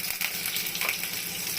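Eggplant seasoned with salt and turmeric fries crisply in a pan over raised gas, giving a loud, dense sizzle with sharper spitting bursts and a faint stirring scrape, close up.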